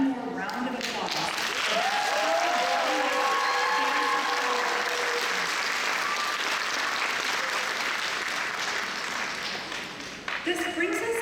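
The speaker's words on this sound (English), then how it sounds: "Let's give one more round of applause." An auditorium audience at a Rangamanch Pravesh stage performance claps heavily for a long sustained round, with a voice heard briefly before and after the applause.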